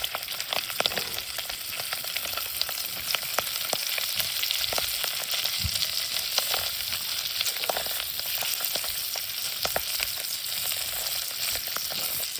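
Sausages frying in a pan on a camping stove in the woods, a continuous crackling sizzle with scattered pops and spits, steady and close throughout.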